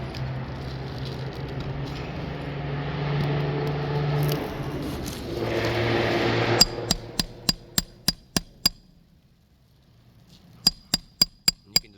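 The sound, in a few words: hammer blows on roof shingle nails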